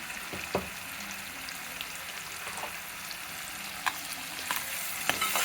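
Kofta balls for malai kofta curry sizzle steadily in a pan, a soft continuous frying hiss with a few light spoon taps, quiet and close, with no voices.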